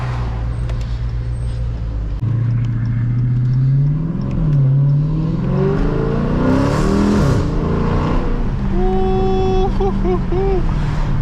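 A Dodge SRT 392 fitted with a Borla ATAK exhaust accelerates at half throttle, a close, loud deep exhaust roar that climbs through rising revs with gear changes, ending in a brief high whine.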